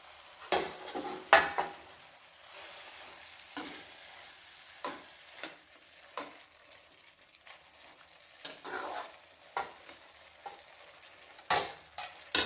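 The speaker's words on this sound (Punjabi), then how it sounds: "ਫਿਰ ਆਪਾਂ ਇਹਨੂੰ ਹਿਲਾਉਂਦੇ ਜਾਵਾਂਗੇ ਹੁਣ ਆਪਾਂ ਇਹਦੇ ਵਿੱਚ ਪਾਵਾਂਗੇ" Tomatoes frying in a pan for noodles are stirred with a series of sharp scraping clicks at irregular intervals over a low steady sizzle, close and alone without talk.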